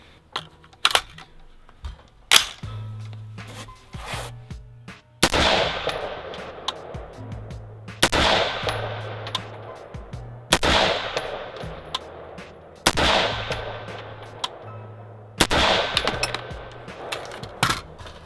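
Colt Canada SA20 AR-15 rifle firing during accuracy testing at 50 yards: a slow series of sharp, loud gunshots spaced a few seconds apart, each with a ringing tail, with lighter mechanical clicks between shots.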